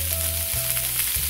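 Chopped onion hits browned garlic in hot oil for pata tim, giving a loud, dense, steady sizzle close up with a low background hum and no voices.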